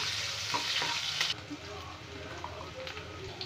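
Whole garam masala and onion fry in oil for an egg malai curry: a loud, bright sizzle with a few stirring knocks, then the frying softens to a quieter bubbling hiss.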